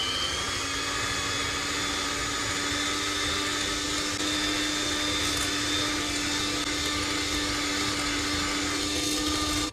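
An electric mixer whirs steadily and loudly, beating an egg into a chocolate carnival migliaccio batter, a constant motor drone with no breaks and no voices.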